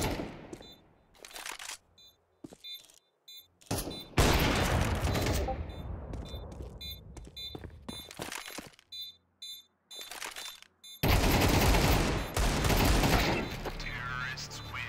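Rapid gunfire bursts and single shots from Counter-Strike 2 competitive play on the Mirage map, loud and dense in several clusters with short gaps, with game beeps and voices talking between volleys.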